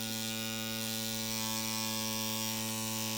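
A tattoo machine needle runs at a higher voltage than 5.5 volts, producing a constant, close, even electric buzz with a humming drone throughout.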